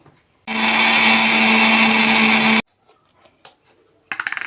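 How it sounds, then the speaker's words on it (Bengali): Mixer grinder blending boiled mango with fresh mint leaves, a piece of ginger and two green chillies: a loud, steady motor whine for about two seconds that cuts off abruptly, followed by light clatter and knocks. "মিক্সিতে আম আর পুদিনা পাতা পেস্ট করে নিয়ে চলে এসেছি"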